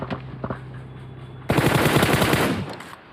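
Automatic gunfire in a battle royale video game: a few scattered shots, then a loud, sustained machine-gun burst of rapid close rounds that stops abruptly, with no talking over it.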